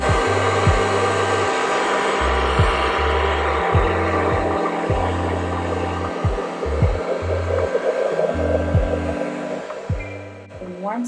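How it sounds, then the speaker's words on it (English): A hair dryer on a low heat setting blows with a steady whirring roar throughout, interrupted by repeated brief clicks and dips as it is moved or adjusted. "I'm going to use a hair dryer"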